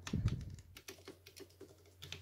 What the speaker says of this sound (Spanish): es un teclado semimecánico que está muy bien, muy recomendable